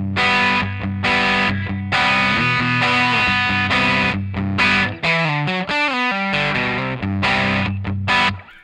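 Distorted electric guitar plays the lead line from a song, loud and alone, with sustained chords, short breaks and sliding notes in a steady rhythmic pattern.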